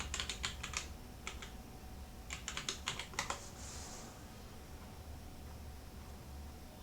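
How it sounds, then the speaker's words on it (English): Keys clatter on a computer keyboard in quick bursts of typing, close and crisp, with pauses between runs over a steady background hiss. "Oh, I'm not typing any place worthwhile."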